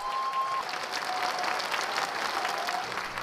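A packed, sold-out concert hall audience gives a steady wash of applause at the start of a performance. The clapping is even and continuous throughout, with no one speaking over it.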